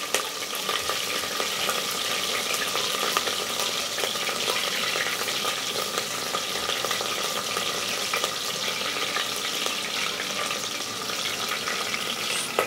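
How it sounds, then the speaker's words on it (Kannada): Green chillies fry in a pan for vegetable pulao, giving a continuous, even, close sizzle with faint crackles and no talking. "ಆ್ಯಡ್ ಮಾಡಿ ಮೆಣಸಿಕಾಯಿನೂ ಕೂಡ ಸ್ವಲ್ಪ ಫ್ರೈ ಮಾಡ್ಕೊಳ್ಳೋಣ."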